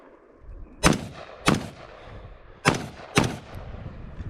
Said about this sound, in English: I barreled my pistol and retrieved my rifle and proceeded to engage all of the paper targets